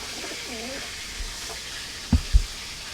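A Kalajiria pigeon in a breeding loft gives a couple of soft, close wavering coos early on, followed by a few faint knocks and thumps against low background noise.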